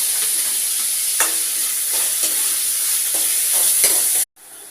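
Onions and tomatoes with ginger-garlic paste sizzling steadily in a pan for palak dal, with repeated stirring scrapes recurring about once a second, close and continuous, cutting off abruptly near the end.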